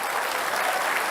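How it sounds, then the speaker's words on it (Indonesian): A studio audience claps for two Jakarta governor candidates during a televised debate, a dense, even roar of applause that holds at constant loudness for the whole stretch. "Boleh kita kasih tepuk tangan untuk keduanya."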